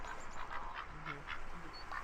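A goose honks in short repeated calls, several bursts over a couple of seconds against a noisy, hissy background.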